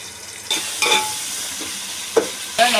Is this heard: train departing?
no